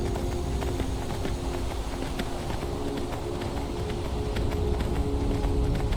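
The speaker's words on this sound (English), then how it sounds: "luckily our horse is gonna climb for us" A horse's hooves clip-clop steadily up stone steps in Skyrim, a continuous rhythmic patter of fairly close hoofbeats over ambient outdoor background, with no talking.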